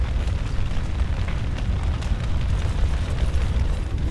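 Fire in the video game Dragon Age: Origins roars in a dense, steady rumble with low crackling bursts, loud and continuous with no talking.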